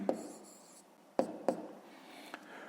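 Quiet pen strokes on paper during a fifth-grade maths exercise: a few soft scratching taps and short strokes, close and faint, with no talking.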